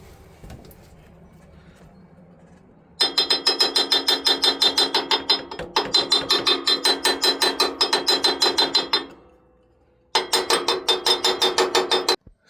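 AC Delco impact wrench hammering on a pulley bolt in rapid, loud rattling bursts, three long runs separated by short pauses, very close with no speech.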